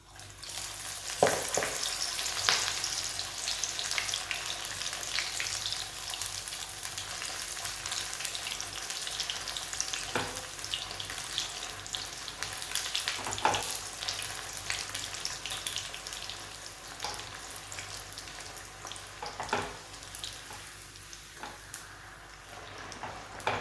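Fenugreek puris deep frying in hot oil, a steady close crackling sizzle that runs throughout with a few sharper pops and a faint clink now and then.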